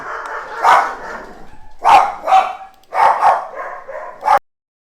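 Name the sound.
dogs barking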